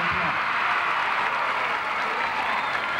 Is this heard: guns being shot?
no